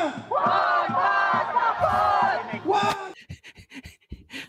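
A protest crowd in the Philippines shouts slogans in loud, rhythmic chanted bursts. The chant breaks into scattered, shorter shouts near the end.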